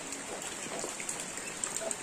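Steady hiss of rain falling on a remote village in West Java, Indonesia, even and continuous with faint drips on a surface, no voices.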